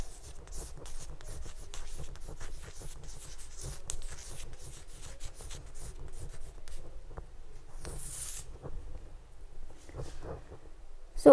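Steady scratchy strokes of writing on a classroom board during a physics lesson, faint and continuous in short rhythmic scrapes, with no talking.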